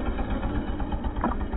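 A motorbike engine runs steadily on a street, a continuous mid-to-low droning hum at close range with no pause, heard alone without voices.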